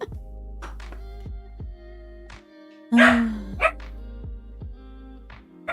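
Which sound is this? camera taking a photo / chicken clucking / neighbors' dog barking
neighbors' dog barking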